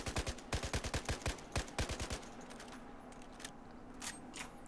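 A SCAR-H rifle fires in a video game in rapid short bursts of two to three rounds, loud, sharp repeated cracks with brief pauses between, followed by scattered fainter shots and clatter.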